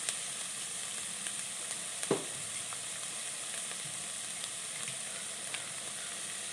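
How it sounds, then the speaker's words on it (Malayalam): Ponnanganni spinach sautéing with salt in a pan gives a steady, close sizzle and crackle, with one brief clatter of stirring. "ഇട്ട് നന്നായിട്ടൊന്ന് വഴറ്റിയെടുക്കാം ഇതിലേക്ക് ആവശ്യത്തിനുള്ള ഉപ്പും കൂടി ഇട്ട് കൊടുക്കാം"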